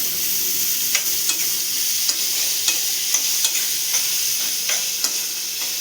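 Onions fry softly in a pan with a constant hissing sizzle, while a utensil taps and scrapes against the pan in a regular rhythm about every half second as they are stirred.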